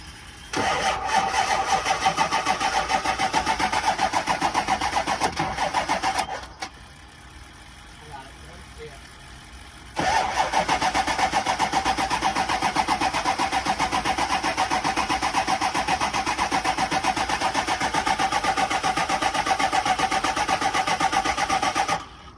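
A pickup truck engine, hooked to a jump box, cranks and rumbles loudly for several seconds, drops to a quieter pause, then roars steadily again and keeps running close by.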